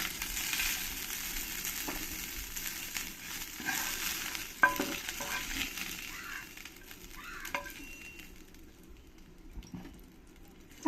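Puti fish frying in hot oil, a steady broadband sizzle with occasional sharper crackles and pops, continuous and moderately close, with no talking.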